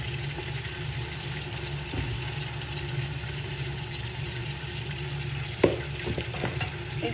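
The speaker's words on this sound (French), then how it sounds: "ramenez votre viande, vous mélangez" Meat and onions are stirred in a hot frying pan, with a steady sizzle running throughout and a single sharp clink of the utensil against the pan partway through.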